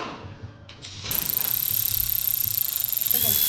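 Ratchet tightening the crankshaft position sensor bolt on a 2012 Hyundai Sonata 2.4L hybrid, a quick rapid clicking run that starts about a second in and continues steadily close by until the end.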